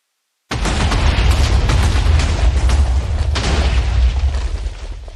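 A TNT explosion in a video game bursts in abruptly after a brief silence, a loud, deep, rumbling boom that roars on for several seconds and fades slightly at the end.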